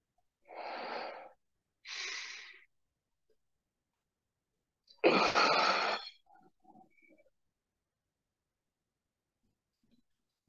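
Deep breaths taken during a stretch class: two soft breaths close together, then after a pause one louder, longer breath, followed by faint small sounds.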